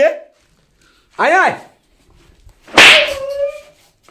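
Three short bursts of high, sliding whimpers and yelps from a puppy, near and fairly loud, with brief pauses between.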